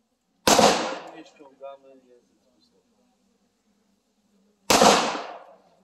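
Two loud, sharp gunshots from a handgun at an outdoor shooting range, spaced about four seconds apart, with brief instructional talk in between.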